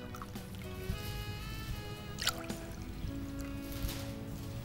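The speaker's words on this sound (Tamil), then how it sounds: "பாதி தண்ணி பாதி பால் சேர்த்துக்கோங்க." Water and milk are poured into a pressure cooker holding rice, a close, continuous trickling pour whose ringing tone shifts as the vessel fills, with a few soft knocks and clinks and no talking.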